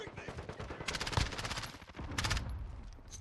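Automatic gunfire in Call of Duty: Modern Warfare, two rapid bursts of shots cracking over steady game noise, fairly close and sharp.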